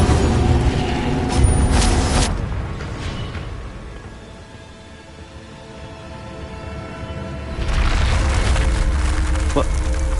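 A fiery Incendio spell cast in Hogwarts Legacy bursts out as a loud, broad whoosh and rumble, fading away and then swelling again near the end, with no talk over it.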